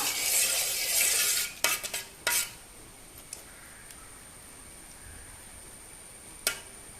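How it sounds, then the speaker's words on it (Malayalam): Warm milk is stirred for vermicelli payasam, a few quick scraping strokes near the start, then mostly quiet with one last faint tap of the utensil. "ഇനി നമുക്ക് നന്നായിട്ട് മിക്സ് ചെയ്ത് കൊടുക്കാം"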